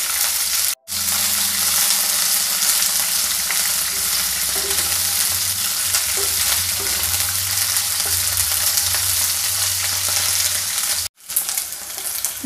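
Ladies finger (okra) and green chillies sautéing in a pan, giving a loud, continuous sizzle and hiss, close up, with a couple of brief dropouts and a few faint stirring touches.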